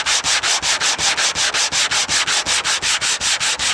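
Hand crosshatch sanding across the paint of a 1957 Bel Air, a brisk, even rhythm of about four to five rasping strokes per second, close and loud, with no voices.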